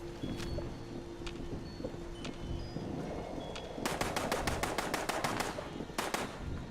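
Super mutants fire guns in the video game Fallout 76, heard as rapid bursts of sharp cracks. A longer volley comes first, then a brief second one, over constant wind-like ambience.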